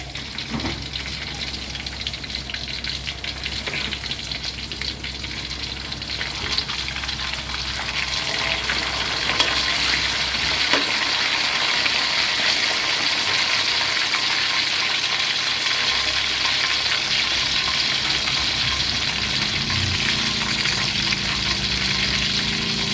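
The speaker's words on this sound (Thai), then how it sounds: "หมูหมักกระเทียมทอดกินกับข้าวเหนียวค่ะ" Garlic-marinated pork pieces fry with garlic bits and batter in hot oil, giving a loud, steady, hissing sizzle that runs unbroken and grows slightly denser partway through.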